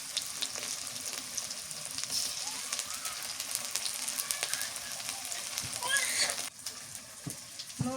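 Garlic and onion paste fry in oil for a village-style hilsa curry cooked with pumpkin, a constant close sizzle with scattered crackles and stirring clatter, a few faint background sounds, and a brief dip near the end.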